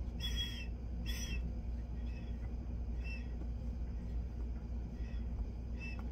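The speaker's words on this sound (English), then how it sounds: "There's still a little bit of a whistle." Drawing on a custom-made tobacco pipe produces a faint, thin whistle that repeats in short bursts about once a second over a low background rumble.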